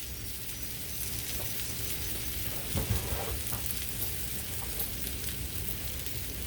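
Honey garlic chicken breasts sizzle steadily in a hot pan, a constant close crackling hiss with a brief louder spatter midway and no voices.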